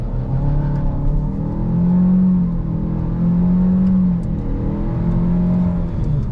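A 2024 Chevy Malibu RS with a 1.5L turbo four-cylinder pulls hard from a stop, its engine drone rising steadily and loud from inside the cabin, with no talk over it.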